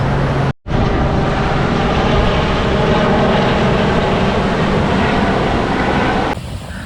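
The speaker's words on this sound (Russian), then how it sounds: "Вертолет. Скоро, наверное, будет взлетать." A loud, steady helicopter engine roar dominates throughout, broadband and constant, near the Atlantic City seafront, with a brief dropout near the start and a slight change at the end.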